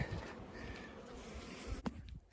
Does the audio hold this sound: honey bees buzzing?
yes